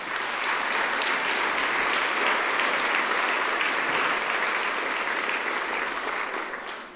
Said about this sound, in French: Je vous demande de les applaudir tous.